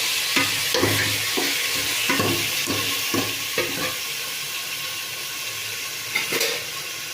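Chicken with turmeric and salt is stirred in a pan, with repeated spatula scrapes over a soft frying sizzle, close and moderately loud.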